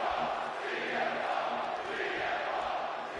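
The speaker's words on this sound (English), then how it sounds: "And just listen to this crowd here in Chicago." Arena crowd in the WWE 2K26 wrestling video game, set in Chicago, a steady, fairly faint roar of cheering and chanting that swells slightly in waves.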